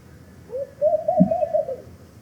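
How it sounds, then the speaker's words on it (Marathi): A dove gives a single soft cooing call, a short series of low bubbling notes that sound faint and somewhat distant against quiet background noise. "या आवाजामुळेच यातल्या एका प्रजातीला लाफिंग डव म्हटलं जातं, कारण त्याचा आवाज हसल्यासारखा येतो."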